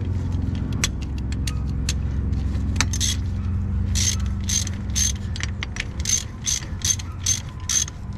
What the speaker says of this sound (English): So now I'm gonna bring the ratchet, and again I'm just gonna tighten it so it doesn't move.